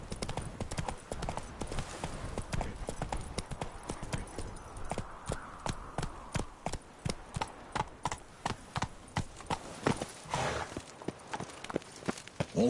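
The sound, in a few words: horse Roach clip-clopping in The Witcher 3 video game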